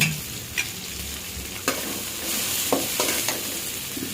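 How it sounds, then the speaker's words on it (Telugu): Onions with chillies frying in a pan for a mushroom curry, a steady close sizzle with a few sharp clinks and scrapes of stirring scattered through it, no voices. "ఉల్లిగడ్డలు అన్నీ ఫ్రై చేయాలి బాగా మగ్గే వరకు కలర్ మారే వరకు బాగా ఫ్రై చేయండి"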